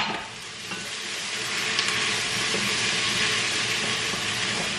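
Onions frying in butter in a pan give a steady, close sizzle with a faint spattering crackle that holds through the whole stretch, with no one speaking.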